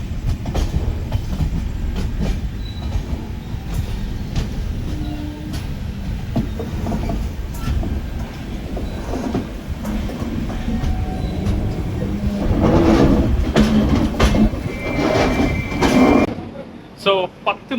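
Inside a moving passenger train heading toward Villupuram Junction, a steady rumble of wheels and carriage noise runs throughout, with rhythmic clacks, brief squeaks, and voices talking over it near the end.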